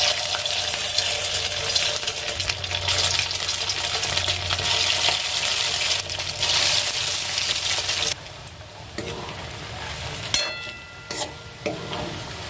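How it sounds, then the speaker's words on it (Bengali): Chili chicken pieces fry in hot oil in a wok with a dense, loud, continuous sizzle that drops off sharply, leaving quieter crackles and a few clinks and scrapes near the end. "কড়াই তেল বসিয়ে দিয়েছি, এবার একটা একটা করে ভেজে নেব।"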